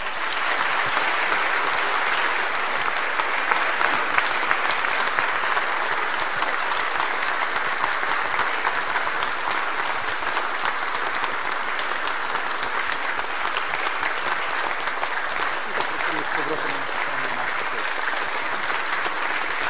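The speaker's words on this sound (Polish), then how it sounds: "I gorące brawa, Szanowni Państwo." Warm, sustained applause from a large gala audience at an awards ceremony, loud and dense throughout with steady clapping and faint crowd murmur, fading slightly near the end.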